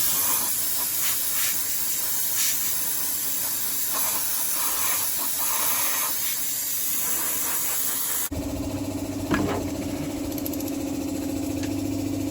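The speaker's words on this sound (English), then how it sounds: "we're gonna go ahead and blow some of that crud out of the spark plug hole area" Compressed air hisses steadily and loudly, blowing crud out of the spark plug hole area on a 1968 Ford F250 engine, then stops abruptly, leaving a quieter hum with a brief click and thump.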